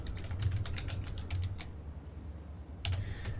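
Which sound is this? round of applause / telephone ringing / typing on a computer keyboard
typing on a computer keyboard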